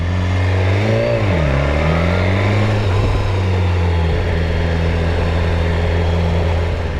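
A BMW accelerates past on a street, its engine revving loud and close with pitch rising and falling as it passes, then settling into a steady drone.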